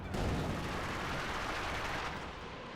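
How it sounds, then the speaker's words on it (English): Rocket artillery barrage in Company of Heroes 2: a dense, continuous roar of overlapping blasts that bursts in loud and stays heavy for under three seconds before easing slightly. "One more volley of rockets."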